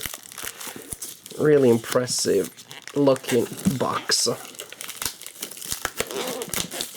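Shrink wrap being torn by hand off a Warfighter Footlocker expansion board game box, crinkling and ripping bursts close up, interleaved with someone talking.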